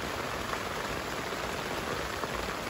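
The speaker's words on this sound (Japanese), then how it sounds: "結構今もなんですけど、雨が強いですね。" Heavy rain pours steadily at a campsite during the rainy season, a dense, even hiss of drops drumming on surfaces with no pauses, close and continuous throughout.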